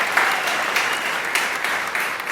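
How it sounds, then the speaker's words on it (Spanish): Steady applause from a church congregation, a dense wash of clapping with a few louder swells, sustained evenly throughout. "quiero que le demos un aplauso a todos los que nos sintonizan desde internet"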